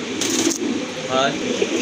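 Pigeons at a bird market coo softly in short throaty bursts, close by, mixed with a busy background of voices and crowd noise.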